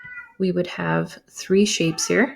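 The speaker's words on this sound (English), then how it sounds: "I apologize if you can hear my cat meowing in the back" A cat meows repeatedly in the background, its tonal, harmonic cries rising and falling close by in several bursts, while a person talks over it about shapes.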